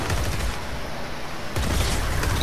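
Rapid gunfire from a zombie video game, with weapons including a nuclear bomb gun and an RPG, crackling in dense continuous bursts that swell louder after a brief lull.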